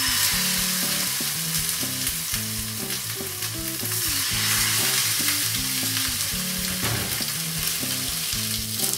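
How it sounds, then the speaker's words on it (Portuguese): Salmon fillet laid skin side down in a very hot pan with a drizzle of olive oil, frying with a strong, continuous loud sizzle throughout while music plays underneath. "vou colocar o nosso salmão com a pele virada para baixo primeiro"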